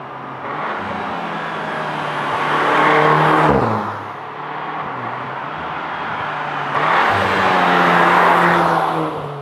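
A powerful Volkswagen Tiguan R SUV engine with Akrapovič exhaust revs hard twice, each rise swelling loud and throaty before dropping off, with a steady idle rumble between.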